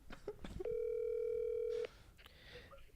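A steady telephone dial tone sounds loud and continuous for over a second as a call is placed, with brief talk and handling noise before it and quieter room sound afterward.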